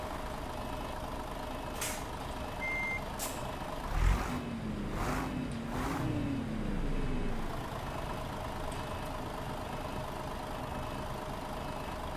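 A heavy diesel Mercedes bus engine in the video game Tourismo cranks and turns over with a burst of air-brake hiss, then settles into a low, steady idle rumble.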